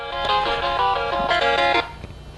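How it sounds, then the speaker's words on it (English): An incoming call ringtone chiming on a phone during a Samsung Stratosphere unboxing, a loud, close, melodic electronic tune that plays in a few quick phrases before stopping. "Oh, hold on. I'm getting a phone call."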